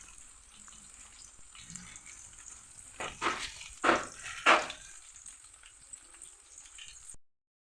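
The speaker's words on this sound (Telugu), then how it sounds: "గోల్డెన్ బ్రౌన్ కలర్ వచ్చేంత వరకు ఫ్రై చేసుకోవాలి." Chicken pakodi deep frying in hot oil gives a steady close sizzle throughout, with three louder bursts of crackling and stirring in the middle before it cuts off.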